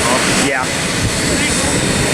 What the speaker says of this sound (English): here's the jet taking off here